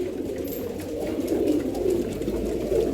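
Pigeons kept in a cage coo softly and continuously, low throaty murmurs layered over one another at close range with a faint background hum.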